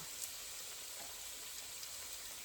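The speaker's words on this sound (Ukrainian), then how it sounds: "олійка вже нагрілася, і ми ложимо наші рулетики і смажимо" Stuffed bread rolls sizzle quietly in hot oil in a frying pan, a faint, steady crackle with small pops, no talking.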